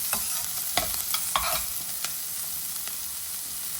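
Onions sizzle steadily as they are sautéed in a pan for a coconut-based shellfish curry, with a few sharp stirring scrapes and clicks over the continuous frying hiss.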